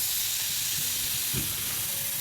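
Sliced onions for a beef curry sizzle and fry steadily in hot oil, a dense continuous hiss with a brief louder crackle of stirring partway through, close up with no voices.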